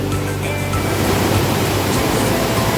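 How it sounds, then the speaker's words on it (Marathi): Loud, continuous roaring rush of heavy rain and falling water beside the Satsada waterfall near Mahad, a dense, steady wash of noise with no voices. "खूप जोरात पाऊस पडतो आहे"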